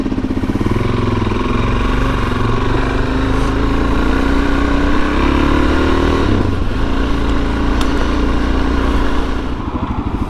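A Suzuki DRZ-400S motorcycle engine runs steadily up close, loud and continuous, its pitch rising gently and then dipping briefly near the middle before settling again, with no talking.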